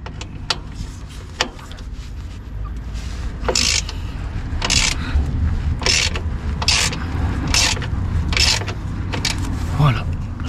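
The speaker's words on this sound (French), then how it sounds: "Voilà, on prédévisse." Screws being loosened under the engine undertray of an Audi Q2, a string of short ratcheting clicks and brief whirring bursts repeating every second or so, close by over a low background hum.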